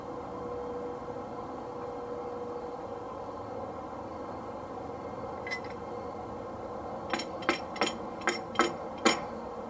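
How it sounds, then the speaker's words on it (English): Six sharp metallic strikes of a small wrench hammer in quick succession near the end, preceded by a faint tap, over a steady outdoor background hum, during trailer brake assembly replacement. "So I used a little wrench hammer."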